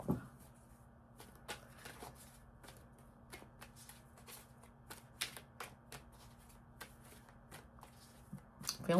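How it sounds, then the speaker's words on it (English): Tarot cards are shuffled by hand close up in quiet, irregular crisp riffles and soft slaps, with faint room tone and no talking. "I'm feeling compelled to do a little more shuffling."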